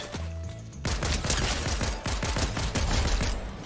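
Rapid pistol gunfire in the Fortnite video game, a quick run of about a dozen loud, sharp shots in an uneven rhythm that follow a short electronic tone and play with no talk over them.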